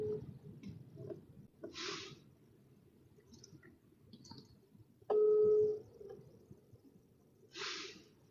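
A phone call being placed, with a few short tones and clicks, then one steady beep lasting about half a second near the middle, set over faint background hiss and occasional breathy noises.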